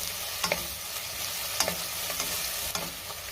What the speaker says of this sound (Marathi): आता आपल्याला ह्यामध्ये आलं लसणाची पेस्ट घालायची आणि पुन्हा 2 मिनिटं चांगलं परतून घ्यायचंय